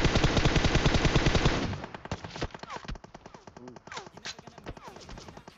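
Rapid automatic gunfire in PUBG Mobile, a loud dense burst for the first two seconds, then fainter scattered shots and distant rattling volleys continuing to the end.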